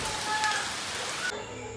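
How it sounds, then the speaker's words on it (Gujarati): Steady rain patters on a surface nearby at Matheran hill station, a continuous hiss that drops off abruptly near the end. "જો કેવો મસ્ત મસ્ત વરસાદ આવે છે"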